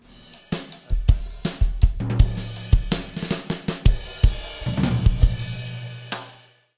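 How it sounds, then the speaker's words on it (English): A full drum kit miked with a Sennheiser Element laser drum microphone system, played up close, with punchy kick and snare hits, tom fills and cymbal crashes in a lively rhythm, then ringing out. "When everything is all mic'd up, the drums sound like this."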